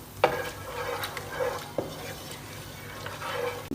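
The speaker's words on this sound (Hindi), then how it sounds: "इन सब चीज़ों को करेंगे ऑयल के अंदर ऐड और इनको हम थोड़ा सा फ्राई करेंगे" Whole cardamom and cloves fry in hot oil for a dum-style bhuna dahi gosht, a soft steady sizzle with a few light clinks and stirring scrapes against the pot, close by and with no talk.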